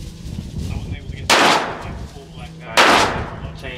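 Two loud, sharp gunshots from a handgun fired at an outdoor shooting range, spaced about a second and a half apart, each with a broad crack and a short decaying tail over steady background noise.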